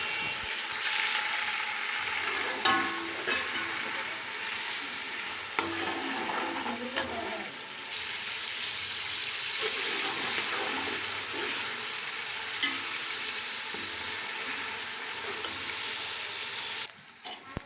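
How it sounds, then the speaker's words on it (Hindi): Ginger and garlic fry in oil with browned onions for beef pulao, a dense steady sizzle broken by repeated stirring scrapes, close and fairly loud, with no one speaking. "अब हम अदरक लहसुन की भुनाई करेंगे"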